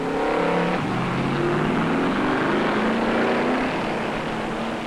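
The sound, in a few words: stock cars pitting at Charlotte, 1972 World 600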